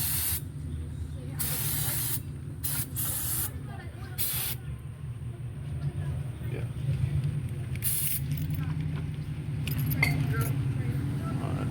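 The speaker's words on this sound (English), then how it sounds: "Spray this down with brake cleaner." Brake cleaner from an aerosol can sprayed onto the front brakes of a 2018–2022 Honda Accord during a pad replacement, heard as several close, loud hissing bursts of varying length separated by short pauses, with a low hum underneath.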